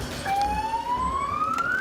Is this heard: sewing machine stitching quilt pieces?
no